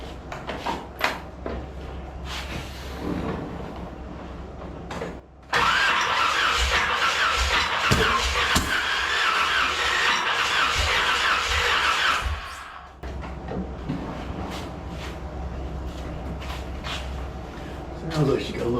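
A 1981 Corvette with a valve leak cranks with a squealing whine, then catches and runs for several seconds before cutting out, leaving a low idle-like rumble, with someone talking over parts of it.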